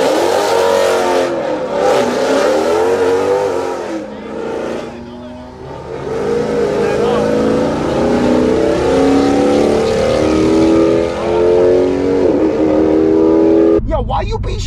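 A BMW M2 Competition revs hard while launching in a drag race, its engine climbing through gears with shifts between rising pulls. It is loud and close, with people talking over it.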